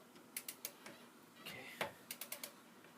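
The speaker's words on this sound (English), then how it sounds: "Listen for that click, single click" Torque wrench on a car wheel lug nut while changing a tire, giving a few sharp mechanical clicks and ratchet ticks, close and fairly quiet, spaced irregularly with a short cluster near the end.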